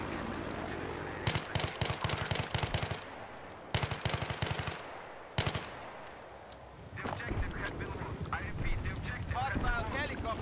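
Machine gun fire in a combat video game comes in rapid bursts at close range, three loud separated volleys followed by busier battlefield noise and chatter.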